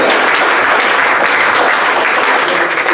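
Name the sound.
audience applause at a board meeting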